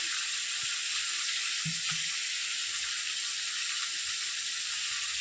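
Vegetables, including ridge gourd, fry in hot oil in a pan with a steady, dense sizzle, joined by a few soft low knocks of stirring.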